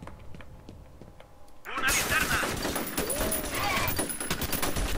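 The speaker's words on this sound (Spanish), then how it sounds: "¿Cómo me vas a matar si te estoy reventando a tiros?" Sustained automatic gunfire erupts in F.E.A.R. after a quieter stretch of footsteps, loud continuous bursts of shots filling the rest of the scene.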